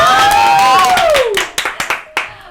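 A lively Thai cooking-show crowd cheers and claps, a voice sweeping over the shouting before it breaks into several sharp, scattered handclaps that trail off near the end.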